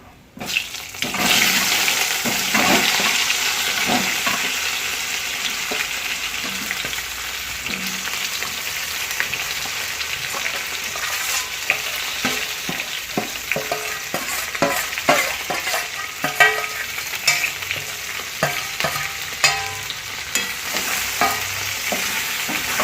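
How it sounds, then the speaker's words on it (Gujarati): Stuffed brinjals added to a pan of hot oil with mustard seeds and a pinch of asafoetida, giving a loud steady sizzle and frying hiss throughout, with scattered scrapes and crackles as they are stirred. "પછી આપણે જે રવૈયા ભરીને રેડી રાખ્યા હતા એ એડ કરીશું।"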